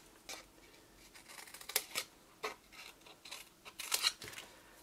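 Several crisp snips of scissors cutting card for a Yankee Candle tea light gift box, close and quiet, spaced irregularly across a few seconds with brief pauses between cuts.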